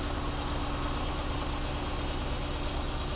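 A truck engine idles steadily with an even, rumbling hum and a faint fan whir, unchanging and alone.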